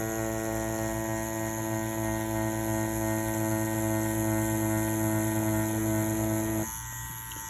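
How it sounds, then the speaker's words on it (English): A wireless rotary tattoo machine runs with a steady, close electric hum and buzz at constant pitch, then cuts out near the end, leaving a faint background. "It's a cool tattoo machine. It's a very powerful one as well."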